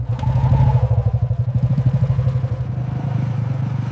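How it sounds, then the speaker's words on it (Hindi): Motorcycle engine running close by, a loud, throbbing low rumble with rapid even pulses that eases a little toward the end, heard on its own without speech. "अब चलें बाइक पे?"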